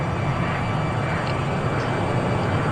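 Engines of an Airbus A350 in a flight simulator on approach to Mae Hong Son airport drone steadily, a constant broad roar with a faint high whine that stays level throughout.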